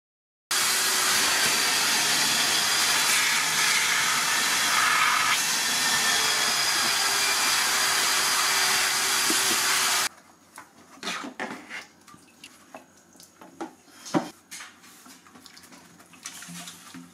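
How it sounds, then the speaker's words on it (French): A wet and dry vacuum cleaner sucks up water with a loud, steady roar for about ten seconds, then cuts off, leaving quiet clatter and a few small knocks. "je vais utiliser un aspirateur à eau et poussière"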